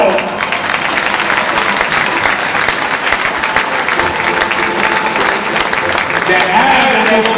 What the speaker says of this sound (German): Gib ihr mal einen großen Applaus!